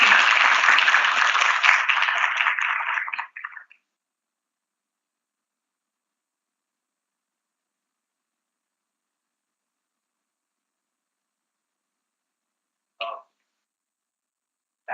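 An audience at an economics conclave breaks into loud, dense applause for about three seconds, stopping abruptly, followed by long silence and a brief burst of clapping near the end.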